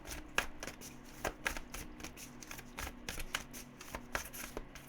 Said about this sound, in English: the deck really didn't want to be shuffled anymore